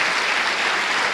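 Congregation in a church bursts into loud, dense applause, a steady wash of many hands clapping together with no pauses.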